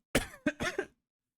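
A person gives a short fit of coughing, four quick close coughs in under a second, followed by silence.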